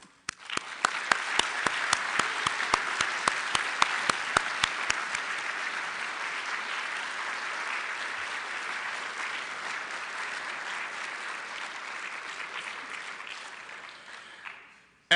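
A banquet audience at a student design competition bursts into sustained applause, starting with a few distinct claps that swell into a dense, even roar of clapping before tapering off near the end.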